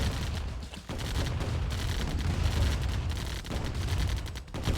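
Rapid layered gunfire and explosions from turrets firing and being destroyed in the Command & Conquer: Tiberian Dawn strategy game, forming a dense continuous battle din.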